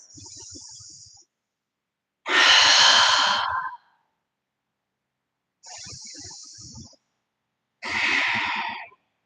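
Deep, slow breathing during a yoga pose, two full cycles of airy inhales alternating with louder, longer exhales, close and alone with silent gaps between.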